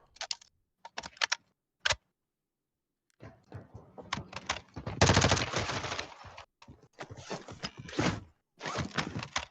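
Gunfire bursts in the video game Call of Duty DMZ, loud staccato volleys in several clusters with brief pauses between them, heard alone without talk.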